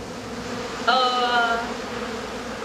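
Wasps buzzing in a Buffy the Vampire Slayer episode, a close droning hum that rises abruptly and holds for about half a second before fading back under a low murmur of background sound.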